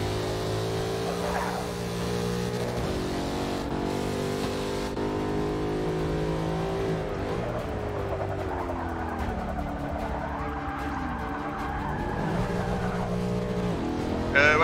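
A car in Forza Motorsport 7 drives with a sustained engine drone, shifting pitch as it revs and slows, and its tires squeal and skid through the middle stretch, all loud and continuous without a break.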